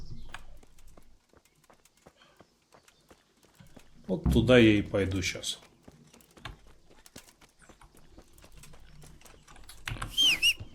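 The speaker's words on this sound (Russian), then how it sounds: "Только на лошади." Horse hooves drum at a gallop while riding in Kingdom Come: Deliverance, a medieval role-playing game. The hoofbeats rise to loud bursts mid-way and run beneath someone talking in Russian.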